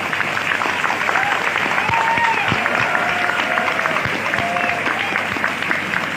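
Audience applause fills a lecture hall during a motivational talk, steady dense clapping sustained throughout with crowd murmur mixed in.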